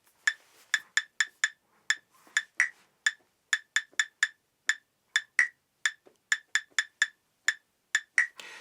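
Impulse Metronome app sounding a 6/8 bell pattern: crisp, bright bell-like clicks in a steady repeating rhythm of grouped strikes, close and clear with nothing else behind them.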